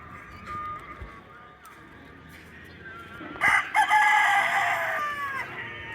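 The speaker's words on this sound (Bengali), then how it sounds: "মুরগি," A rooster crows clearly nearby in a Pakistani village, one long loud cock-a-doodle-doo rising in the second half over quiet outdoor ambience with faint earlier clucking.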